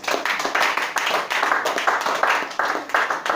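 A church congregation claps together in acclaim of Jesus during a worship service, a steady run of loud, close hand claps with a rough shared rhythm that continues throughout.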